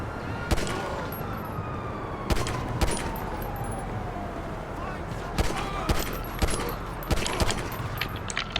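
Police pursuit sirens wail in Grand Theft Auto V, under a steady wash of game noise, with sharp bursts of gunfire popping repeatedly throughout the chase.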